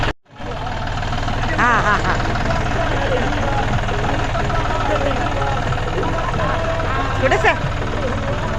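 A tractor engine runs and idles nearby with a continuous low rumbling drone, while people laugh and talk over it.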